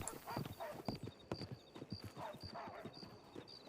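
Horse hooves clip-clop in a video game set near Armadillo, a brisk irregular series of sharp knocks close by, with a faint snort or whinny and a repeating high chime in the background.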